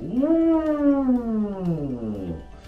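A single voice imitates a siren, sliding up and then gliding slowly down in one sustained wail lasting a couple of seconds.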